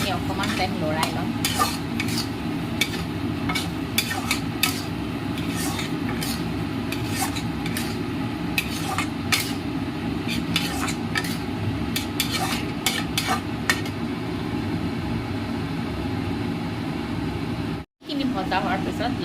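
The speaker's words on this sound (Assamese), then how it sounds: "এতিয়া মই ভাজি থোৱা মাছখিনি দি এইখিনি অকণমান টাইম লৰাই ল'ম।" Fried prawns are stirred into a simmering malai curry in a pan, with repeated scraping spatula strokes over a constant soft sizzle and a brief break near the end.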